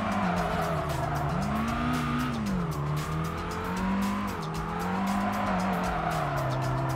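A car in a touge racing video game slides after a yanked handbrake, a loud continuous tire squeal with wavering pitch riding over a steady engine drone throughout.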